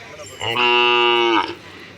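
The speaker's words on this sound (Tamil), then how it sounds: "தரமான நாட்டுக்கண்ணு நாட்டு மாட்டுக்கண்ணு" A single loud, drawn-out cow moo at a native cattle market, rising at about half a second and holding steady for nearly a second before fading, with faint background murmur around it.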